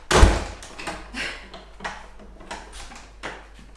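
An Airbnb apartment door in St Kilda, Melbourne, bangs shut with a firm thunk, followed by a few lighter clicks and knocks of the latch and lock, close and sharp in a quiet room.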